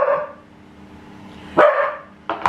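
A dog barks at close range, with a soft vocal whine at first, then one sharp loud bark and a second short bark near the end, in an indoor home setting with no talk.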